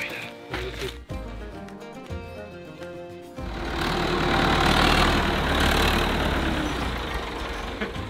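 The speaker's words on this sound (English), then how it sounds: "This is the red tractor. This is Ferguson." A red Ferguson tractor engine idles on a farm with alpacas, a steady low rumble rising and growing louder after a few seconds, with some earlier clattering and talk nearby.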